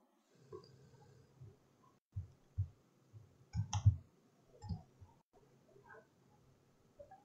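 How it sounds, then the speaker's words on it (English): Faint, sparse computer mouse clicks, single and in quick pairs, at irregular intervals while modeling a padlock in Rhino 7, with quiet room tone between them. "Right mouse click, enter."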